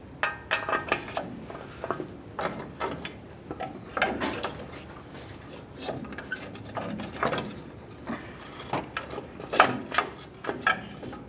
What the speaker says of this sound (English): We'll start with our ball joint stud directly into our steering knuckle.